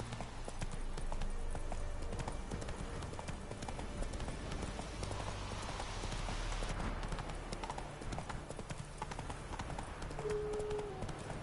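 Horse galloping in The Witcher 3: Wild Hunt on PS4: steady rhythmic hoofbeats pound continuously over game ambience and music, close and clear throughout.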